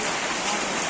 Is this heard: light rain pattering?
yes